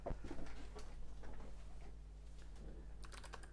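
Typing on a computer keyboard while setting up a Novell NetWare 4 network with DOS and a Windows 98 boot disk: faint, steady key clatter over a constant low hum.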